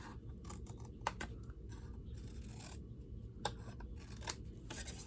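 Scissors cutting folded paper for a Stampin' Up! Christmas gift box, with a run of quick, close snips and crisp paper rustles, steady and fairly faint.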